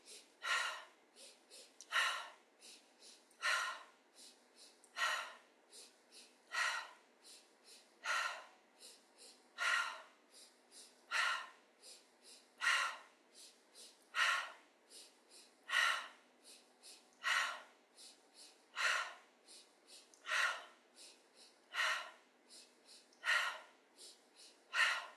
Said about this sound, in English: when we're doing the panting or the sighing breath, it's about a 30-second repetition